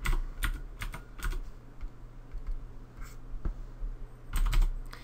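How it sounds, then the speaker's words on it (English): Bursts of computer keyboard typing while layer names are entered, keystrokes clattering close and fairly quiet in quick uneven runs with short pauses between them, and no talking. "just double click on the name and just going to type in what they are"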